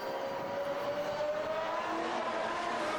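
A Mercedes W17 Formula 1 car running on a wet Silverstone track during a shakedown, its high-pitched engine whine rising steadily with a hiss of spray, loud and continuous throughout without any voices.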